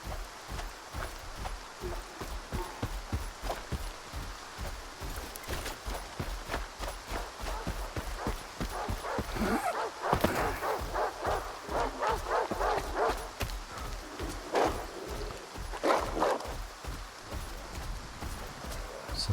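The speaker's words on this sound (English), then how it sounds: "Sounds like a pack of dogs." Pack of dogs barking in the game S.T.A.L.K.E.R. 2, with a steady stream of rapid overlapping yips and barks running the whole time, moderately loud, with footsteps and game ambience beneath.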